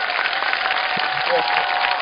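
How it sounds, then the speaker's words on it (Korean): An online audience claps and cheers through open microphones, giving a dense, muffled, narrow-band wash of applause that stays level throughout, with voices mixed in. "함성과 박수로 최준영 작가님 모시도록 하겠습니다"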